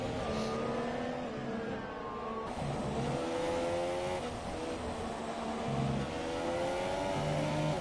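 F1 race car engine in F1 2017 on the Hungary circuit during an online championship race: high-pitched engine whine rises and falls with gear shifts as cars pass, steady and moderately loud, with no talk.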